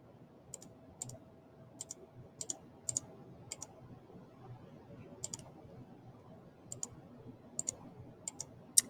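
Calculator keys are pressed one by one to type in an equation, sharp little plastic clicks in an irregular rhythm, close and quiet against a soft hum.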